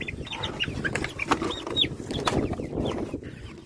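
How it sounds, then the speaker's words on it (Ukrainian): Several chickens cluck and murmur nearby, a busy, overlapping chatter of short calls in a farmyard. "Кури гарні"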